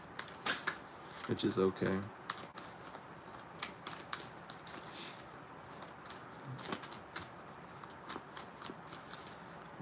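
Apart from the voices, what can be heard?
shuffling a deck of oracle cards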